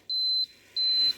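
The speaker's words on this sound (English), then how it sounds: "so it just turned off and started beeping" An Elite Gourmet egg cooker signals the end of its cycle with two sustained electronic beeps, each about a third of a second long, separated by a short pause. The tones are clear and steady and sound alone.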